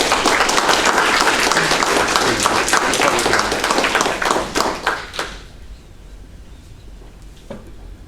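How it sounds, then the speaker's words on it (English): An audience at a park district meeting claps loudly and steadily for about five seconds before the applause trails off into a quiet room with a few last claps. "Please, round of applause for Dr. Stephen Petrolanco."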